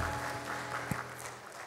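A congregation at a Sunday worship service breaks into sustained applause, a broad patter of many clapping hands with a brief louder thump partway through.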